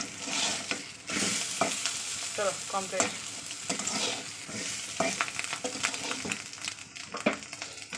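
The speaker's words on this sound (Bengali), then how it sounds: "ওর ফাট করে ভাজছে, লঙ্কা ভেজেছি তো লঙ্কা দানা টুকটাক আছে" Chillies fry and crackle in a hot pan with oil, with scraping stirs and short sharp pops over a steady sizzle; a voice speaks briefly near the end.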